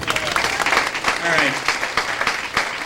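An audience at a standup comedy show claps briefly while someone speaks over the applause.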